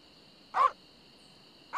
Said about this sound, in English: They were not kidding when they said they had dogs.